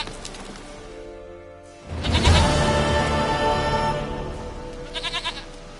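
A goat bleats in The Witcher 3, a loud wavering bleat that swells after a quiet start, with a few short repeated bleats near the end.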